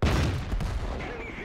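Tank cannon shot in Derp Tanker, a single heavy close boom with a rumbling tail that fades over about a second.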